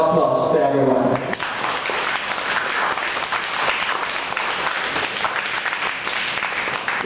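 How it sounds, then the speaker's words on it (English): Club members at a meeting break into loud, sustained applause right after a short spoken line, the dense clapping continuing evenly for several seconds. "A round of applause to everyone."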